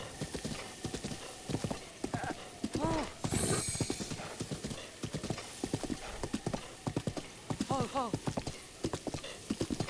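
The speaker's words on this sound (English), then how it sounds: "Not exactly sure how much this horse likes me." Repeated clip-clop hoofbeats of a horse galloping in the video game Zelda: Breath of the Wild, with neighs and whinnies, over background game music, with a person talking throughout.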